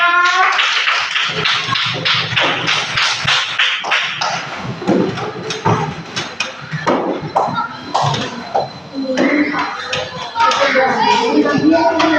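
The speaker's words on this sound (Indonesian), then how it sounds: "Tepuk tangan dulu semuanya" Pupils in a religious-diversity lesson clap their hands together, loud, close and uneven, with bursts of rapid claps while children's voices chatter and call out throughout.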